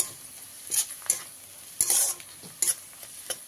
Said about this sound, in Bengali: এবারে এর মধ্যে আমি কেটে রাখা কাঁচা লঙ্কাটা দিয়ে দিলাম, দিয়ে একটু ভালো করে ভেজে নেব।